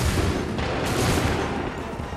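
A dense volley of musket fire in Assassin's Creed 3, loud and booming, with the blasts merging into one continuous roar of battle noise.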